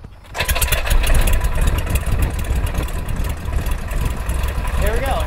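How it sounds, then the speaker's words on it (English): A light tailwheel airplane engine is started by hand-propping, then settles into a loud, steady, rough idle that rumbles on close by after a brief quiet moment. "we'll go ahead and start the engine up."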